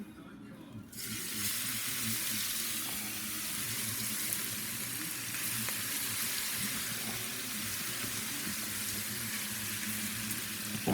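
Seasoned beef, with some oil drained off, is dropped into an oil pan for braising a pepper steak stew and fries with a steady, loud sizzle that carries on evenly throughout.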